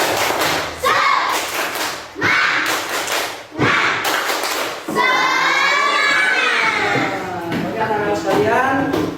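Children in a classroom chant in spirited unison, breaking into loud rhythmic claps and thumps with shouting voices, loud and close.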